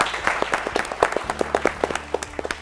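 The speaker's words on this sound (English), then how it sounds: "Let's clap for them, please." A school quiz audience claps for a student team on stage, a thin scattering of individual hand claps with uneven rhythm, fairly close and moderate, with a low hum beneath.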